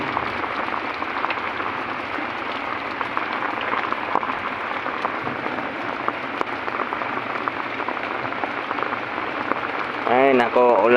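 Steady rain falling outdoors during a school pickup, a continuous hiss of drops on surfaces, with a voice speaking near the end.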